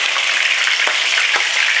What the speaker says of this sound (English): Now it's frying in the oil.